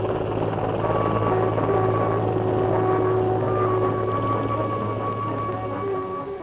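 CH-53 heavy-lift Marine helicopter in Vietnam, a loud steady rotor and turbine roar with a droning whine that holds constant, then eases slightly at the end.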